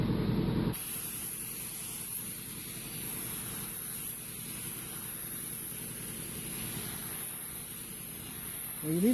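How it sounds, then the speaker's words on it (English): A spray gun applies base coat paint to a repaired car fender, a steady close hiss of atomized spray running almost the whole time after a brief start, with no talking over it. "we've got the paint in the gun that needs to go on the vehicle, the correct paint color code, and we're going to go ahead and put some coats on"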